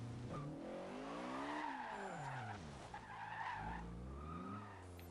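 A VW Corrado's tires skid and squeal loudly in the Forza Horizon 2 racing game, a long wavering screech that rises and falls over about five seconds with engine noise underneath.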